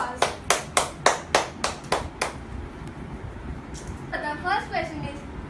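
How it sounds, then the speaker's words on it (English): A short burst of hand clapping at a Grade V school exhibition interview: about eight sharp, evenly spaced claps close by, fading out as other faint noise follows. "So give a big round of applause."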